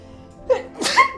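A single close, loud sneeze bursts out after a brief inhale, in a quiet indoor living room during spring allergy season.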